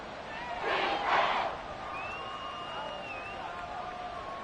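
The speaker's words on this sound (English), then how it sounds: "this crowd trying to force a false start here" Loud football stadium crowd roaring and surging during a third-and-inches play, swelling to a peak then holding as a sustained wall of noise meant to force a false start, with a faint whistle-like tone riding above.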